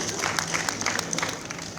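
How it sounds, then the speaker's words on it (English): Audience applause at a conference talk about a Cisco ASR 9000, a brief patter of scattered clapping at moderate level with some crowd murmur underneath. "let's clap for Cisco"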